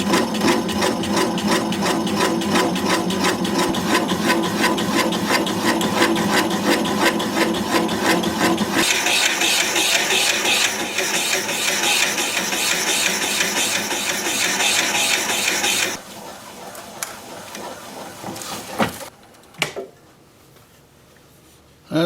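A wooden candle holder spins on a wood lathe while a toothed drill bit bores into it slowly, producing a loud, steady grinding roar that drops to a lighter rasp and then fades to quiet handling noises.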